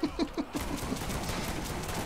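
Rapid gunfire in the video game Borderlands in an arena: a quick burst of evenly spaced shots at the start, followed by a dense, sustained clatter of weapons and explosions.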